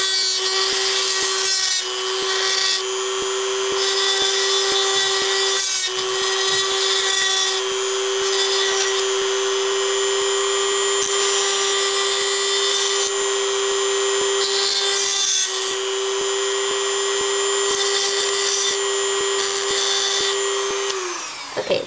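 A high-pitched rotary drill whines steadily for a long stretch, grinding sharp edges smooth on a gold metal necklace part, small shifts in tone, close and loud with no talking.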